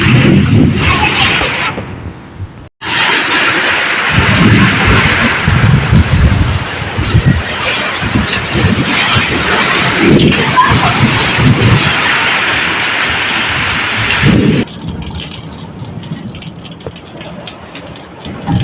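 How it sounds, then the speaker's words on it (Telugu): A hailstorm with heavy rain in Khammam makes a loud, steady, close roar that cuts out briefly near the three-second mark, then resumes and softens toward the end. No thunder stands out. "నాకు వర్షం అయితే పెద్దగా వస్తుంది ఫ్రెండ్స్."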